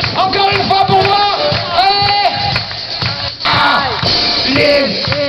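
A show audience in Sainte-Maxime roars and cheers in bursts, with loud shouting and whooping voices rising and falling over a few seconds and a brief dip near the middle.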